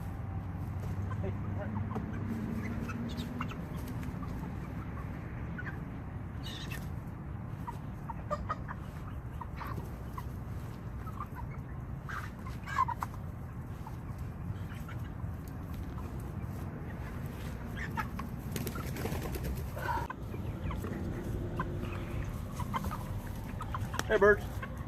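Chickens clucking softly on a farm after being let out, scattered low calls under a person's voice and ambient outdoor noise.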